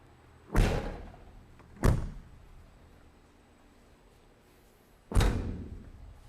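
Storage compartment doors on a 2024 Peterbilt 567 Showhauler bunkhouse truck are shut one after another: three loud, close slams with short ringing tails, the first two about a second apart and the third after a pause.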